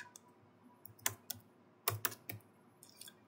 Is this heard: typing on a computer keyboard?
yes